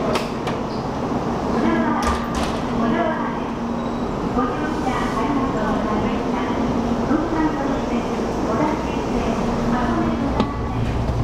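Steady, loud rumble of riding aboard a Shinkansen bullet train in Japan, a constant rolling drone with a low hum and occasional clunks, with people talking over it.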